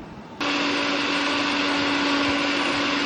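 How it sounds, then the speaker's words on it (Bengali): Electric blender whirring steadily as it grinds two green chillies with a little salt, a loud continuous motor drone that kicks in sharply after a brief quiet start and holds without pause. "কাঁচা লঙ্কা দুটো নিয়েছি যে যেরকম জাল খাবেন আর শস্য আর সামান্য অল্প পরিমাণ লবণ দিয়েছি এটা একটু ব্লেন্ডার করবো"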